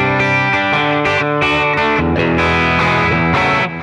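Electric guitar with a NERO fuzz pedal played through a Deluxe Reverb amp model, bright buzzy distorted chords struck in a choppy rhythm, close and loud throughout with no speech.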